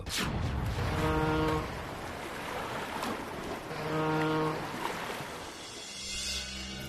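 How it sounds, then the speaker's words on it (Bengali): A special boat in a cartoon crosses the open sea, with rushing water and wave wash under two long, low horn-like tones, moderately loud and steady throughout. "মধ্যসাগরের উপর দিয়ে আমার স্পেশাল বোটটা করে যাচ্ছি"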